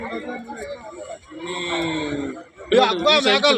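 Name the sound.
goats bleating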